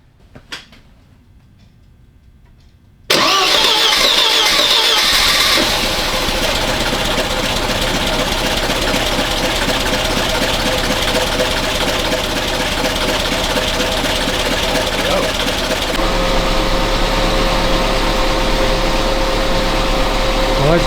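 A Bobcat 632 skid steer engine cranks over and catches after a few quiet seconds, then settles into a steady, loud low idle on a cold morning.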